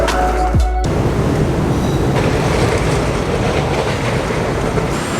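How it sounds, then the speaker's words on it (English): A Melbourne tram rumbles past up close in the city centre, a loud steady roar of wheels and motor following a brief bell-like tone at the start. "the Melbourne trams are pretty cool"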